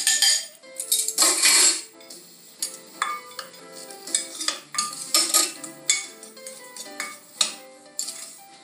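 Dry rub of fine salt, pepper and sugar being stirred together in a bowl, with repeated scraping and clinking of a utensil against the dish in uneven bursts, close and fairly loud, with faint background music and no talk.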